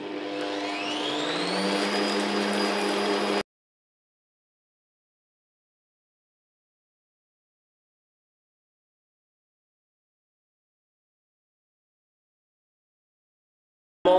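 Electric mixer running at top speed whisking genoise sponge batter, a loud steady whir for about three seconds, then silence until a brief burst at the very end.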